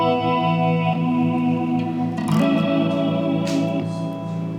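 An electric guitar runs through an effects pedal's modulation, layering chorus- and echo-like shimmer over sustained chords, with a swell of brighter strummed notes midway and washing reverb-like tails, with no talking.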